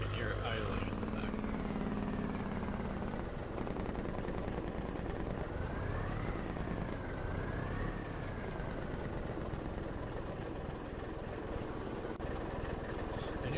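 A truck engine idles in Farming Simulator 25, a steady low drone running the whole way beneath someone talking, with a brief rising and falling tone in the middle.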